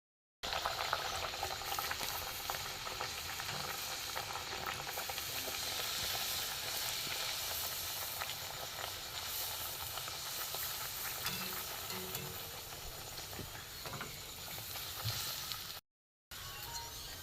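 Mango-flavoured sweet luchi, a puffed flatbread, frying in hot oil, giving a steady, close bubbling sizzle that runs unbroken and alone throughout, with faint stirring noises.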